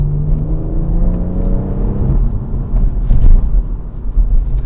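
A BMW M140i engine hums loudly up close, its pitch rising and then swelling into a throaty rev with a rush of road noise.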